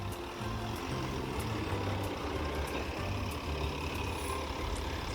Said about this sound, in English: they brought in this flatbed truck with a crane on it to assist in pulling things off of the ship